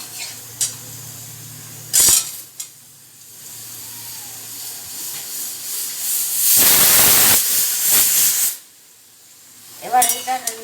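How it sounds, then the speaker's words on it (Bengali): Ridge gourd pieces sizzling in hot oil in a kadai, a loud hissing burst of frying with a rising spatter after quiet stirring and clatter, fading again toward the end. "ভালো করে ঝিঙেগুলো ভেজে নেবো"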